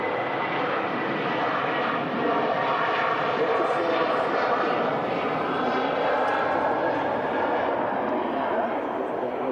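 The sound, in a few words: Ryanair aircraft departing for Bratislava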